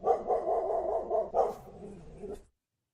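A puppy barks in a steady run of close, loud yaps for about two and a half seconds, with a brief sharper burst partway through, then the clip falls silent.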